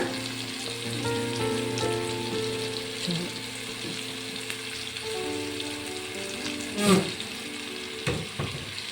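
Cumin seeds frying in hot oil in a pan for egg tomato curry, a continuous close sizzle and crackle with a steady hiss, plus a brief clatter of stirring near the end.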